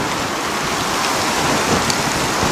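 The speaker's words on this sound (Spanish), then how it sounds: "está granizando en la ciudad de Alcorcón." Dense, heavy hail pelting down in strong wind in Alcorcón, a continuous hiss of small hard impacts on surfaces with no voices.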